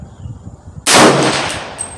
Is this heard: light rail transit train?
no